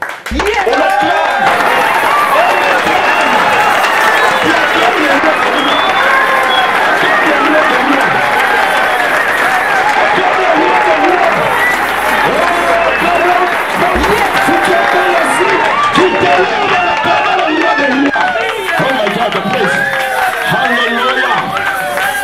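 A church congregation applauds and cheers at a worship service, a dense continuous roar of clapping and voices that stays loud and steady throughout.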